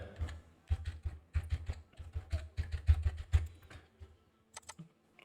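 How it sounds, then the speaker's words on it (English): Digits typed on a computer keyboard in a spreadsheet, with a close, quick run of crisp key clicks that slows to a few scattered taps near the end. No voice is heard. "And now type 18 digits in that."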